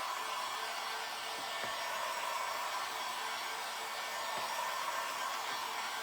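A hair dryer runs steadily at close range for about six seconds, blowing on freshly brushed paint on a barn door sign, a constant loud whirring hiss with no pauses.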